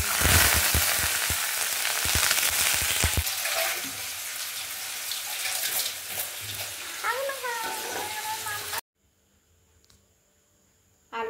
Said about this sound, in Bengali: বানাবো ডিম আলু ভাজা, আর একটু পেঁয়াজ দেবো, মচমচে করে ভাজবো